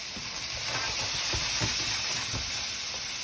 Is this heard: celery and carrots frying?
yes